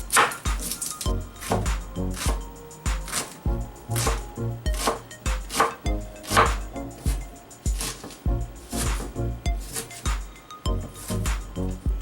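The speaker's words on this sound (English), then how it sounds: "To start we have to slice the onions." Onions sliced with a knife on a board for beef biryani make a quick run of sharp, rhythmic chopping taps, close and fairly loud, with occasional clinks between the cuts.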